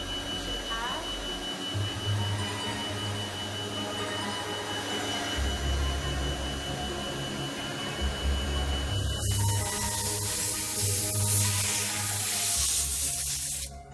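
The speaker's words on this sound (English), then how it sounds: "Here is a smaller CNC machine hard at work." A small CNC machine works in a jewelry production workshop, giving a steady mechanical hum with shifting low tones and a brighter hiss that rises in the second half.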